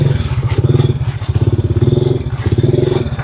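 Motorcycle engine revved hard in rapid pulsing bursts during a wheelie attempt, loud and close with a throbbing, uneven rhythm and brief dips between throttle blips.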